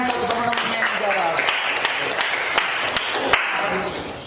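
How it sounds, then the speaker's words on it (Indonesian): Students in an eighth-grade madrasah classroom applaud classmates who answered, a short burst of scattered clapping with a few sharp claps standing out, mixed with voices and room noise. "100 tepuk tangan untuk teman-teman yang jawab."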